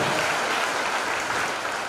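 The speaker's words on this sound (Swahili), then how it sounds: "Tupige makofi mazuri sana." A church congregation at a new sanctuary opening claps for the pastor in steady, dense, loud applause that fills the room with no speech over it.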